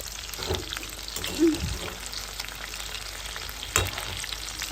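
Food frying in hot oil while being cooked till reddish, a steady low sizzle with a couple of soft stirring knocks and faint background voices.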